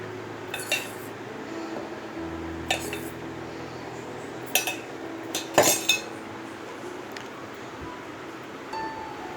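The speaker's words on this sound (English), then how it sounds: "we are going to add our dry ingredients mixture into the wet ingredients" A utensil scrapes and clinks against a bowl while dry chocolate cake ingredients are folded into the wet mixture. Soft stirring alternates with a few sharper taps, close and fairly quiet.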